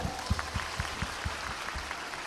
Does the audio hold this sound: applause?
yes